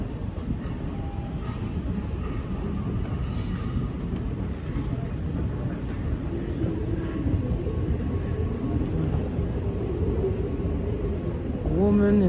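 A Dubai metro train, in the women and children cabin, rumbles steadily throughout with broadband rolling noise and a brief rising squeal near the end, while people talk faintly in the background.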